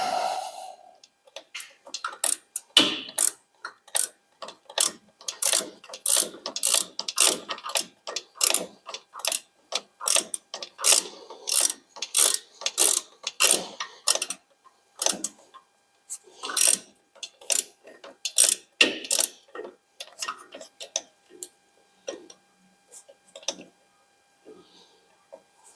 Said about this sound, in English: And then I shall be ready to use the torque wrench.